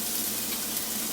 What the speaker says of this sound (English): now we're gonna do our celery and onion that we cut over at the table. We're gonna do that in the butter here.